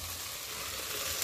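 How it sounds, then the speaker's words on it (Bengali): Spices frying in hot oil in a wok for a mustard fish curry make a steady, soft sizzle and hiss, even and unbroken, heard close with no voices. "কড়াইতে তেল দিয়ে মশলাটা দিয়ে দেওয়া হলো।"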